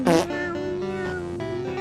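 A person vocally imitates a cat's meow, a loud drawn-out voiced call that starts with a sharp attack and then holds a steady tone, close to the mic.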